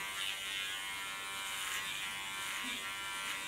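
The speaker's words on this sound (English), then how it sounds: "I put my blade off and put my clipper to the back" An electric hair clipper, run with its blade guard off, cuts hair at the back of the head in a bold clipper-cut style, giving a steady, close, even buzz that holds throughout without pause.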